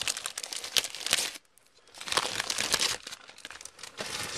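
Plastic packaging from a Panini TMNT trading card game starter pack crinkling and crumpling as it is pulled away, close and loud in two bursts separated by a short pause.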